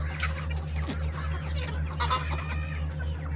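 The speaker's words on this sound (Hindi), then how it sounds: "यहाँ पर ये देखिए पानी पी रहे हैं मुर्गे" Egyptian Misri hens and roosters on a village farm, clucking in short, scattered calls over a steady low hum, with a couple of sharper squawks standing out.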